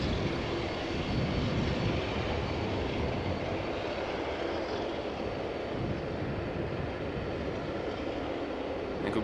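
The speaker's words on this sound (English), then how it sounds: "Airbus A220 from Air Baltic going to Tampere" An Air Baltic Airbus A220-300 jet at Amsterdam Schiphol Airport gives a steady, distant broadband engine roar with no distinct peaks.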